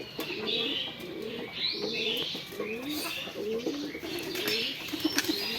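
Pigeons and doves kept together on a small farm coo in repeated soft, rounded phrases close by, with occasional chirps and brief wing flaps over a steady background.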